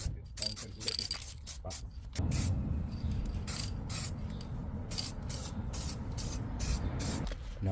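Spray paint hisses onto brake calipers of an MK7.5 Golf R as another coat goes on, in short bursts at first, then one long sustained spray lasting several seconds, close and steady.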